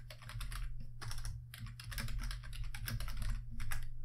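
Computer keyboard being typed on at a Raspberry Pi, quick close bursts of key clicks in uneven rhythm, alone with no talking.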